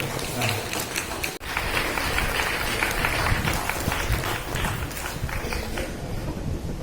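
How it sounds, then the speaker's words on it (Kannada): Steady, dense clapping from an audience at a Kannada Rajyotsava celebration event, sustained and continuous without any break in intensity. "ಚಪ್ಪಾಳೆ ಜೋರ ಬರಬೇಕು, ಚಪ್ಪಾಳೆ ಕಡಿಮೆ ಇದೆ."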